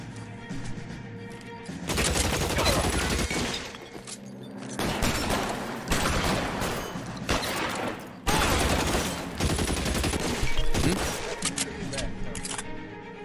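Rapid bursts of gunfire from a firefight in the virtual-reality game Skyrim VR, dense and loud, coming in sustained volleys with short gaps, while voices speak over the shooting.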